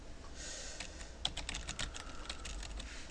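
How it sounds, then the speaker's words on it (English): Someone types a name on a computer keyboard, a quiet run of close, irregular key clicks that grows busier after a pause, with no voices. "So you can just type in your name"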